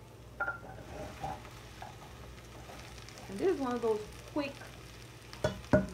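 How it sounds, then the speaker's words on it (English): Vegetables being sautéed in a pan for a vegan pumpkin stew give a steady low sizzle with occasional stirring scrapes, while a person talks over the cooking. "we're sauteing this for about 2 to 3 minutes"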